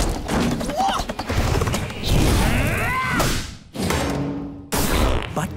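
Cannons fire in a Teenage Mutant Ninja Turtles cartoon battle: heavy booming blasts and thuds with whooshing bursts in quick succession, mixed with excited character voices.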